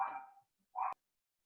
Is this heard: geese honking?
no